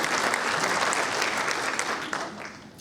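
Audience applause at a community transportation event in Tysons Corner, Virginia, a dense, steady wash of many hands clapping that carries on for the whole stretch and eases off slightly toward the end.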